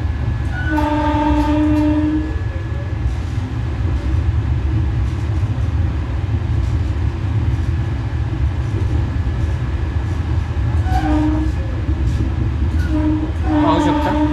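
Vande Bharat Express train on the Pune to Kolhapur route, a loud continuous rumbling roar of the moving train with a sustained horn blast at the start and further horn calls near the end.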